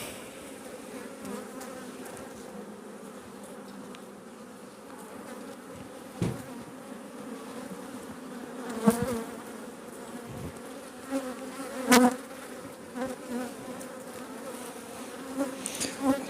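Honeybees buzz steadily in a thick, close hum, with scattered knocks and rustling bumps breaking through now and then.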